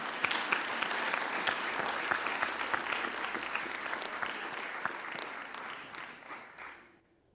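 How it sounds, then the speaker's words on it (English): Indigenous Peoples Summit plenary audience gives itself a sustained round of applause, dense steady clapping for about six seconds that thins and fades out at the end. "let us give ourselves a big round of applause"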